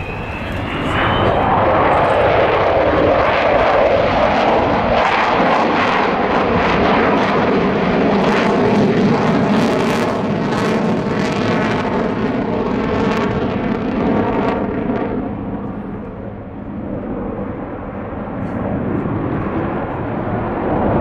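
The four jet engines of the Avro Vulcan bomber XH558 roar loudly as it makes a spiral climb overhead at a Yeovilton air display, a broad rumbling blast that swells and then slowly fades in the distance.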